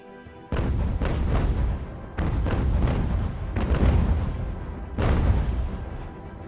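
Ship cannons fire in the naval strategy game UGAR during a British campaign sea battle: four or five heavy, booming blasts in quick succession, each with a rumbling tail that overlaps the next.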